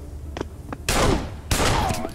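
Two loud bursts of gunfire from a recoiling weapon in the CS:GO VR game, each a dense crack with a ringing tail, following a couple of faint clicks, with no talk.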